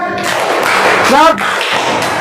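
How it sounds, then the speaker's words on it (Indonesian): Schoolchildren in an Islamic elementary school classroom in Gorontalo clap together in a class clapping game, with dense, steady claps mixed with children's voices throughout. "Oke, ulang lagi. Tepuk tangannya ya."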